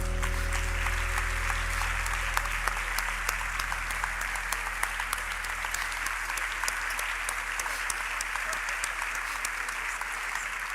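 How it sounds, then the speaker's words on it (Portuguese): Steady, sustained applause from a large audience at a gala in Galicia, dense clapping throughout with no voices rising above it. "Un aplauso."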